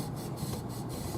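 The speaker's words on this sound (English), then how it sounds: "take our leveling beam. It's got a little bit of really smooth sandpaper on it, and we're just going to kind of go back and forth" A fret leveling beam with fine sandpaper is rubbed back and forth across the frets of a cheap Stratocaster-style guitar, giving close, rhythmic raspy strokes in a steady back-and-forth pattern.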